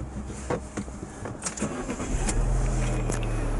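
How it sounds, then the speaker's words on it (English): Alfa Romeo Giulietta Veloce engine starting from the driver's seat: a few clicks and interior handling noises, then the motor catches and settles into a steady, smooth low hum. "Start the engine."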